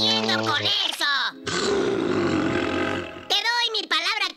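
A cartoon bear roars in a Woody Woodpecker cartoon, a sustained growling roar between bursts of animated, high-pitched character speech.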